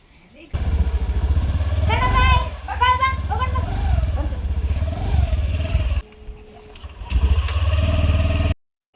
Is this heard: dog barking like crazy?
no